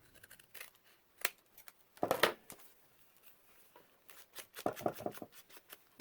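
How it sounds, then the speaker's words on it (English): Mini guillotine paper cutter trimming across the top of a notecard: a few quiet, sharp slicing swipes and scrapes at irregular intervals, faint and close, with light handling noise in between. "My little mini guillotine. My little cutter."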